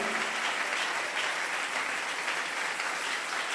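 A church congregation applauding during a service, a dense, steady wash of many hands clapping at once, sustained and fairly loud throughout.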